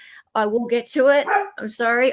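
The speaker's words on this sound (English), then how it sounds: "that's my dog barking" A pet dog barking in a home during a live online talk show, a few yips and barks mixed in with a man apologizing close by, with voices running over most of it.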